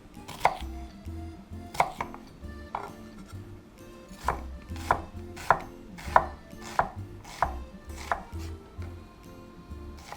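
A knife chops onion on a cutting board in a steady series of crisp, close thuds, each about half a second apart, with no voices.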